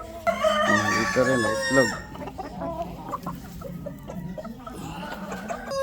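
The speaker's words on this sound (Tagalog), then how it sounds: "Ito naman yung mga production type, egg type na mga Rhode Island Red." Rhode Island Red heritage chickens, an egg-laying production breed, cluck and crow loudly up close in a backyard flock, with a rooster's crow early on, scattered clucks throughout and someone talking over them.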